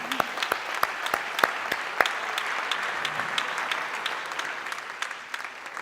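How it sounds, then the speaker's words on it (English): Applause from a conference audience at a European social economy meeting, a steady wash of many hands clapping with a few sharper claps standing out near the start, fading slightly toward the end. "Je vous propose de les applaudir encore une fois."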